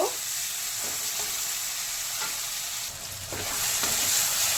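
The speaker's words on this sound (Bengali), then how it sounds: "পেঁয়াজ আর টমেটোটা বেশ ভালোভাবে ভাজা ভাজা হয়ে গেছে" Onions and tomatoes frying in a pan with a constant dense sizzle, broken by a few scraping stirs of a spoon, close and steady with no talk.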